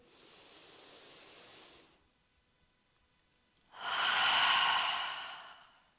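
Deep yoga breaths during a hip-stretching session: a soft, airy breath, a pause, then a longer, louder exhale through the mouth that swells and slowly fades, close to the microphone.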